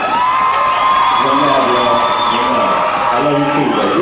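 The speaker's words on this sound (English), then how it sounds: "give a round of applause for my man, Pucker." A club crowd at a reunion show cheers, whoops and claps as a performer is introduced, loud and close with shouting voices riding over continuous applause.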